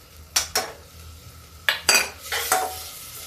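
Chopped tomatoes tipped into a cooking pan for a French beans and peas mixed vegetable dish, then stirred with a utensil scraping the metal pan. A few sharp clattering strikes in two bursts, close, over a faint sizzle, with no talking.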